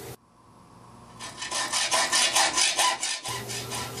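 A hand file rasps against the edge of a forged steel spring held in a vise, a quick run of about a dozen rhythmic strokes, close and alone.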